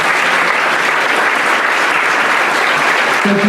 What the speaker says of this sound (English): let's get a round of applause for our panelists.